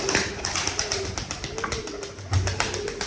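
Pigeons coo repeatedly in a loft where the birds have laid eggs, soft rounded calls recurring close by with faint tapping and shuffling, no voices.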